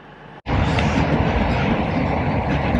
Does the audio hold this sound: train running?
yes